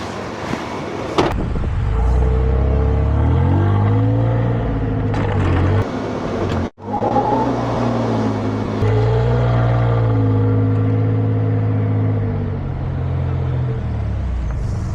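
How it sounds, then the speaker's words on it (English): A car engine revs up after being shifted into drive and given a little gas, a loud steady drone that rises in pitch, drops out briefly, then climbs again close by. "just put it in drive, a little bit of gas"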